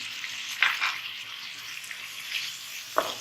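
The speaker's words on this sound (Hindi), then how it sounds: "थोड़ा सा इन सब चीज़ों के साथ, मसाले के साथ हमने प्याज को फ्राई करना है और टमाटरों को।" Onions and tomatoes with coriander, turmeric and red chili powders sizzle steadily in a pan, a close broad hiss with a couple of sharper stirring bursts and no talking.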